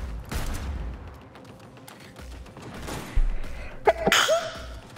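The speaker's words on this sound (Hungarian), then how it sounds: "Tüsszentenem kell." A single sharp human sneeze, loud and close, bursting out late in the clip after scattered bursts of distant gunfire and rumbling action from Cyberpunk 2077.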